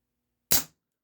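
A single sharp crack from a Remington 1875 CO2 air pistol firing, close and loud, with a quick decay into silence.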